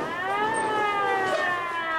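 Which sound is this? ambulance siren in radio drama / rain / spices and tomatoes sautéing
ambulance siren in radio drama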